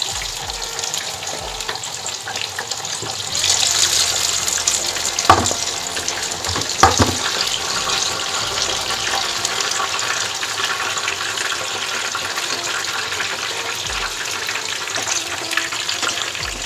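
Bangda mackerel fish frying in a pan, a continuous loud sizzle of hot oil with brief clatters from the fish being turned or moved, close and steady throughout.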